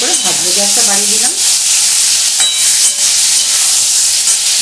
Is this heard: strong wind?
no